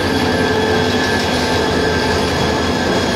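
A train at a railway station being towed by another engine: a loud, continuous rolling rumble with steady wheel squeal and faint rhythmic rail clatter, and no voices.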